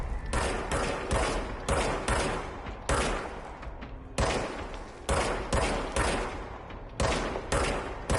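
The player's gun in Control fires in repeated heavy bursts, each loud volley of rapid shots cutting off abruptly before the next, close and punchy.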